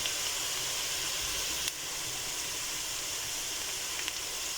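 Diced tomatoes sizzle with onions in oil in a frying pan, a steady close hiss of frying that carries on evenly throughout, with a faint tap or two and no talking.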